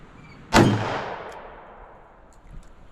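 A single sharp gunshot from a .357 Magnum revolver firing Fiocchi defense ammunition, loud and close, with a long outdoor echo decaying over more than a second, followed by quiet background.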